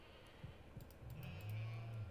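A sheep in the video game Stardew Valley gives a faint, low bleat that rises and holds briefly, soft and distant among quiet game sounds.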